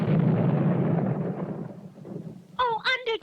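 Cartoon bomb explosions from an Underdog episode: a loud, rumbling blast that decays over a couple of seconds, followed by a voice speaking over the fading noise.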